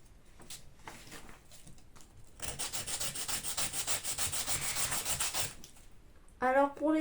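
A file rasps over the rounded plastic parts of a Tamiya Neo Fighter buggy kit, starting with a few faint scratches and then a steady run of rhythmic strokes, ending with a short squeak, fairly quiet and close.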